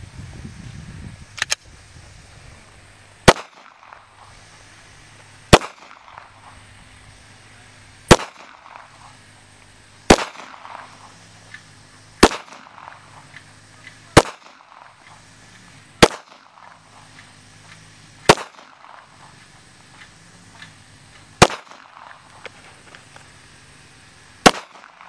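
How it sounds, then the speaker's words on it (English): Single 9mm shots fired at a Level 3+ floating body armour plate from 5 meters, about ten sharp loud reports spaced evenly roughly two seconds apart, each ringing briefly against a quiet background. "At this point, we will hit it with 9mm at 5 meters."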